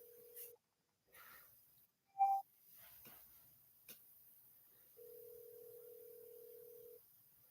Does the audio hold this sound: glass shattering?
no